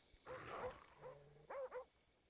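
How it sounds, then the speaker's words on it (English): Attack dogs in the Black Ops video game let out a burst of barking, then a yelp and a pair of sharp whimpering cries, loud and close, in separate bursts. "You know, wherever dogs are, it's where the other team is."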